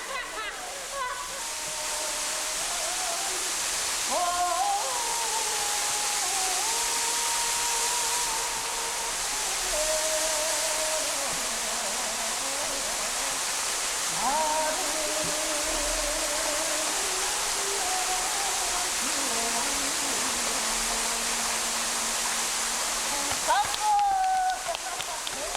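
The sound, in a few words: waterfall cascading into a pond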